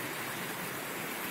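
Floodwater from the overflowing Dzhida river rushes steadily across a flooded road, a faint, even broadband wash of flowing water without voices.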